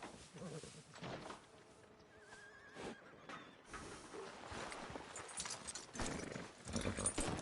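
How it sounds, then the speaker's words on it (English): Horse hooves clip-clop in Red Dead Redemption 2 as a rider's new horse gets moving, a steady plodding beat mixed with ambient game sound and a brief whinny-like tone. "Are you gonna mount that new horse of yours or not?"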